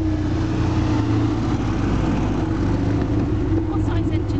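A 1800 B-series MG B engine idling in an Aston Martin replica, a steady low throbbing hum close by that carries on under people talking.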